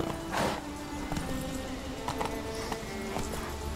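Hooves of the horse Roach clip-clopping in a video game, a steady run of distinct close hoofbeats over a soft ambient bed, with no talk.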